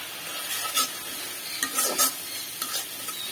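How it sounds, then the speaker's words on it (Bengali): Garlic paste, turmeric and chili powder fry for a prawn bhuna, a soft continuous sizzle broken by several brief scraping stirs of a spatula, close by and without speech. "মশলাটা কষানো শেষ।"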